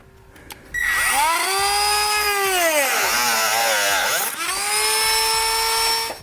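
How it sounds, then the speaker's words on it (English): A Dremel rotary tool cuts through thin plastic bumper trim with a loud, steady high-pitched whine that bends in pitch as it bites into the material, running continuously for several seconds at close range. "I'm going to use a dremel tool."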